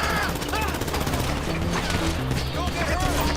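Rapid gunfire from GTA V rattles in dense bursts over a busy game soundscape, moderately loud and continuous, with voices talking over the shooting.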